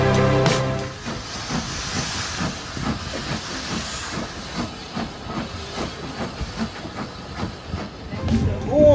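A steam train on the Embsay and Bolton Abbey Steam Railway chuffs with rhythmic puffs and a steady hiss, wheels clacking beneath, ending with a sharp whistle-like blast.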